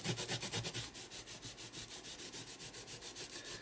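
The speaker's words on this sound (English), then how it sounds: "Hold that down and then just give it a rub." Paper rubbed down onto a handmade paper doll notelet card in steady, rhythmic back-and-forth strokes, close up and fairly quiet, with no talking.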